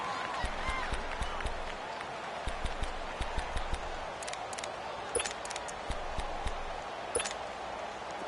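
Stadium crowd in an American football video game, Browns versus 49ers, cheering and applauding ahead of a big third down: a steady dense roar with scattered sharper claps and whistles, no talk over it.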